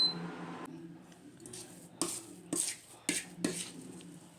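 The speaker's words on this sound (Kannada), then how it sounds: "ಈಗ ಇದನ್ನು ಎಲ್ಲ ಹೊಂದ್ಕೊಳ್ಳೋ ರೀತಿ ಮಿಕ್ಸ್ ಮಾಡೋಣ." Semolina dough is stirred and pressed in a pan with a utensil, a few soft scraping knocks and clinks at an uneven pace, close and fairly quiet.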